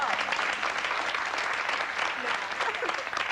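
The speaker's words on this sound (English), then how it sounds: "But now you guys are clapping" Studio audience at a 1994 television game show hosted by a host, clapping in a steady, dense wash of applause that fills the whole stretch at moderate level, with voices faintly mixed in.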